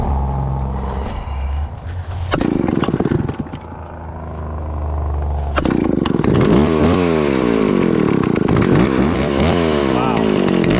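A free Stihl chainsaw with its idle being adjusted runs loudly close by, shifting between a lower idle and sharp revving bursts with rising and falling pitch, with a voice briefly over it.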